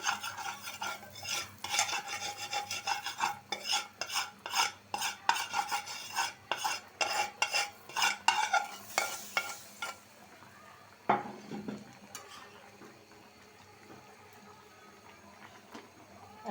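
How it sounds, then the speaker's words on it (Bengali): Vegetable curry is stirred and fried in a pan, with a rapid run of rhythmic scraping strokes over a steady sizzle, then a calmer stretch of quieter frying with an occasional utensil knock. "পাঁচ মিনিট রান্না করব রান্না করে নামাই নিব তরকারিটা"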